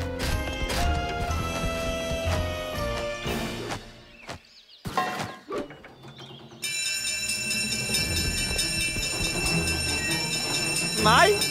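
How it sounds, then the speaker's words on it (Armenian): In a cartoon, a train rumbles past a railway crossing amid clattering and a sustained horn-like tone, with excited voices and music layered over it. "Գնացքը! Գնացքը!"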